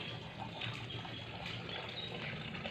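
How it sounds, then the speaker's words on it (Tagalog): A weak trickle of running water at a house, a steady, faint wash of flow continuing alone throughout. "hina ng ano agos ng tubig eh"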